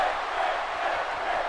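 Simulated arena crowd cheering in WWE 2K18 during a Finn Balor vs Bray Wyatt match, a steady, moderately loud roar of voices with no distinct peaks.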